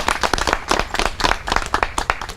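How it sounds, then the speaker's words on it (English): A crowd of local residents at a Prince George's County community day clapping in a round of applause, fairly close and uneven, with distinct individual claps rather than a smooth roar. "Let's give them a round of applause"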